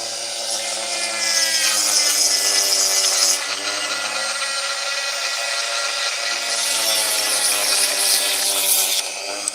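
A sanding drum grinds bone into guitar picks, a loud continuous abrasive whine that gets harsher as the bone is pressed harder, then eases off and bites in again.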